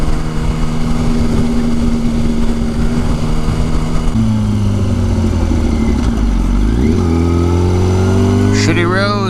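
A motorcycle rides on a cold, potholed road in Grand Rapids with a loud, steady engine drone and wind rush throughout. The pitch drops and shifts midway as the gears change, and a rider talks over it.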